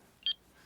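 A single short telephone keypad tone, a bright dialing beep lasting about a tenth of a second, sounds clearly over a quiet room background.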